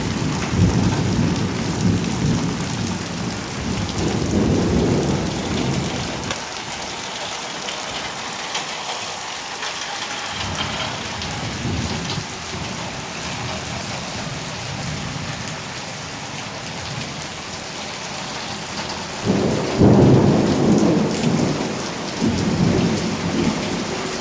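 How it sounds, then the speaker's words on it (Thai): Heavy rain pours and splashes during a thunderstorm at a house by a canal in rural Thailand, a dense, loud, constant roar with low rumbling surges throughout and no talking. "โอ้ยฝนกระเด็น"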